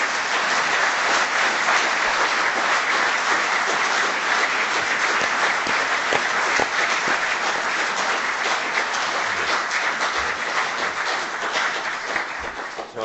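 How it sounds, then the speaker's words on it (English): Loud, sustained applause from an audience fills a lecture hall after a talk on the Crossrail project, dense steady clapping throughout with no break. "let's give him a very warm round of applause"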